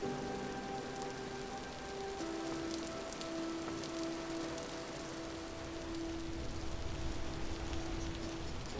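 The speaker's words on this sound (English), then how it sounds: "the sound change when you go under trees in the rain" Steady rain patters in a survival-building video game, a dense even hiss with no pauses, under faint tonal game music and without any voices.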